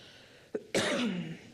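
A man coughs up close during a city council meeting: a short throat catch, then one harsher, stronger cough that fades out.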